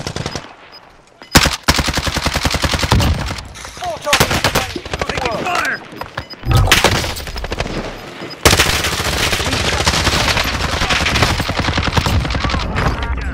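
Gunfire in the Call of Duty video game, with loud sustained bursts of rapid automatic fire broken by brief pauses, then a long continuous stretch of shooting, close and dominant.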